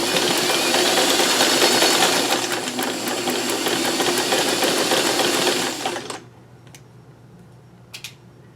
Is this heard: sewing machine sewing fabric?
yes